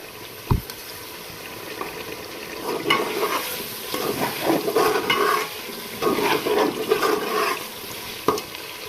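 Tomato frying in a pan of garlic, ginger and green chili paste, a steady close sizzle with stirring scrapes throughout and a couple of sharp knocks.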